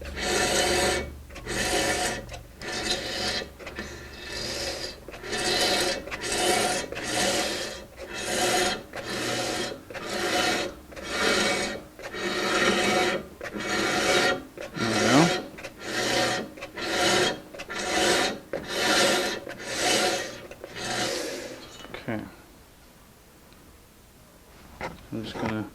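A powered-off sander is rubbed by hand across guitar wood in quick, regular back-and-forth rasping strokes, about twenty in a row, close and clear, before it falls quiet near the end.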